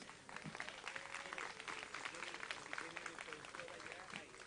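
Applause from an audience at a startup demo day pitch event, steady clapping throughout at moderate loudness with voices mixed in.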